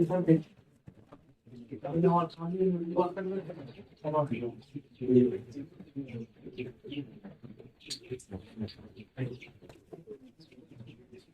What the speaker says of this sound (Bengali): কবুতর আবার ভিতরে ঢুকে গেছে